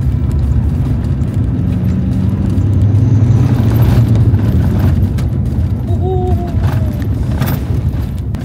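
A car overtaking on a rough offroad road in Borneo, a steady loud engine rumble with road noise throughout and a brief horn-like tone near the end.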